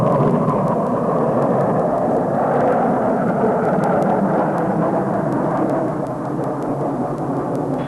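F-100D Super Sabre jets flying a Thunderbirds display sequence, heard as a loud, continuous broadband jet roar that holds steady throughout with no talk.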